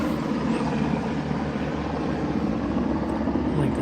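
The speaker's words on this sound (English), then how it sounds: "helicopter above." A helicopter flies overhead, a steady, moderately distant rotor and engine drone that holds evenly throughout with no speech.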